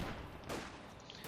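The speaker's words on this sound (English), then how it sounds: "And we got the mortar joining in for Raj and the 3rd Armoured." Muffled battle noise from the real-time strategy game Company of Heroes 2, with a mortar joining the fight. Dull thuds and bursts roll continuously through a dense, steady backdrop, with one sharper impact standing out partway through.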